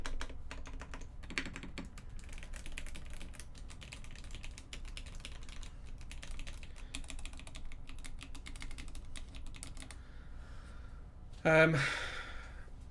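Typing on a Sirius 60 mechanical keyboard with POM and CF plates, a steady stream of soft, close key clacks that stops near the end, followed by a brief breathy sound.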